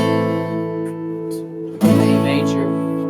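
A guitar sustains a chord from a barre chord exercise, then a new chord is strummed firmly partway through and rings out, close and steady.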